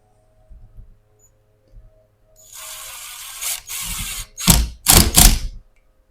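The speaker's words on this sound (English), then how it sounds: "now I'm going to put a couple of screws on this end" A screw gun drives screws into a drywall patch beside a door, in two or three short whirring bursts after a few faint handling knocks, the last bursts loud and close.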